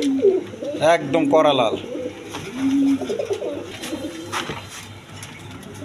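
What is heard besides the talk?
Indian Lotan pigeons cooing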